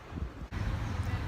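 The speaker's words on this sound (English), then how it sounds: "A little windy on this dock though." Gusting wind buffets the microphone on an open dock in a steady low rumble, with a brief dropout midway before the roar resumes just as strongly.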